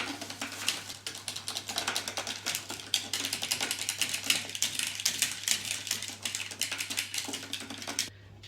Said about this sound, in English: we'll give that a quick whisk with this rather unusual and weird whisk